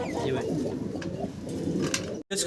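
A male Mundian pigeon coos at a pigeon sale, its low, rolling calls mixed with someone talking and general market background noise.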